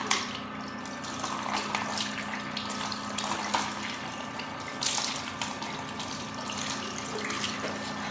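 Tap water running steadily into a sink for rinsing after a home teeth-whitening paste, a continuous close splashing flow with a few small knocks, no voices.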